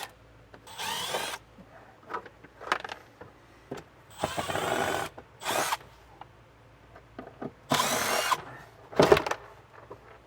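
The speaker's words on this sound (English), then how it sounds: "So I'm just going to take a Phillips screwdriver and get those removed." Phillips screws being taken out of vehicle panels with a power driver, heard as short whirring bursts separated by softer scrapes and rubbing of plastic trim, close and moderately loud with no talk.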